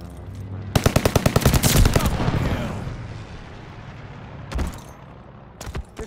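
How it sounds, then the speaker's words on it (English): An allied airstrike in Call of Duty: Vanguard arrives as a loud, rapid rattle of heavy gunfire that fades into a rumbling wash, followed by a few shorter bursts of shots further off. "Allied airstrike coming in hot."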